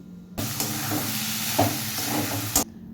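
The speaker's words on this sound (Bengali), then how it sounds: "মাছটা কষানোর সময় নিচে একটু লেগে যাবে, সেটাকে খুন্তি দিয়ে একটু নেড়ে দেবেন।" Lote (Bombay duck) fish fries in a pan and is stirred with a spatula. A sudden loud hiss of steam and sizzle rises, holds for about two seconds with a few scraping bumps, then cuts off.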